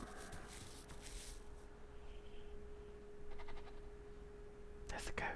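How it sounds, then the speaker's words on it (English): In The Isle survival game, a goat gives a few short bleats against a quiet background, with soft talk and a faint steady tone alongside. "There's a goat."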